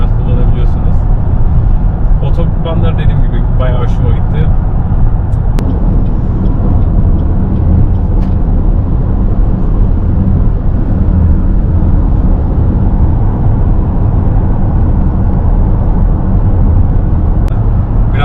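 Rental car cruising on a wide American highway, a steady low road and engine rumble filling the whole stretch at constant loudness, with a voice talking over it throughout.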